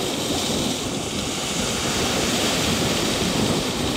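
Steady sea waves and surf roll continuously at an ocean shoreline where an overloaded boat is trying to push out past the breakers, with wind rushing over the microphone and no voices.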